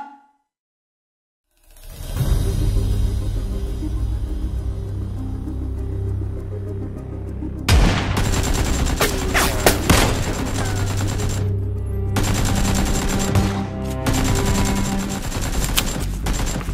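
Sustained automatic gunfire in the battle royale game PUBG, loud and continuous, with dense overlapping bursts of shots running almost the whole time after a short silent start, no talking over it.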